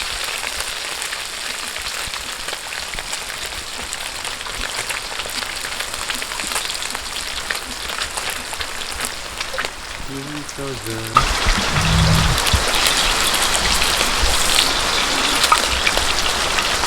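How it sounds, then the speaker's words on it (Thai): Steady rain falling at night at a garden house in the countryside, a dense continuous hiss that grows louder and heavier partway through, with a few brief low tones mixed in. "บรรยากาศกลางคืนฝนตกพี่น้องเอ้ย"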